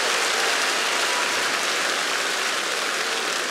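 A large audience at a comedy show applauds with dense, steady clapping that fills the whole stretch at an even, loud level.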